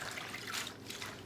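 Water poured onto water spinach being prepared for a salad in a home kitchen, a soft steady trickle and splash heard close and alone, fairly quiet throughout.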